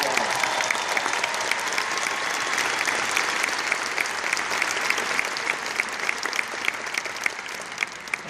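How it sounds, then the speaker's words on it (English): A large summit audience of company members applauds continuously, a dense, even wash of many hands clapping with a few sharper claps standing out, heard from within the hall. "Really, give them a round of applause."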